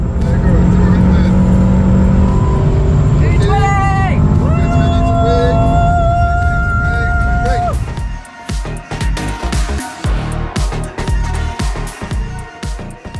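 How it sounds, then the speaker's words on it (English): An Aston Martin DBX 707 SUV with 707 horsepower runs test laps on a track, its loud engine roaring and shifting through rising tones before giving way to clattering, uneven noise. "I did a few test laps in Aston Martin's new DBX 707."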